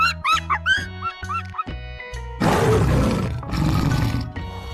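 A string of short, bright, chirping calls gives way to a loud, close tiger roar, a deep, rough, sustained growl that swells, briefly eases, then surges again.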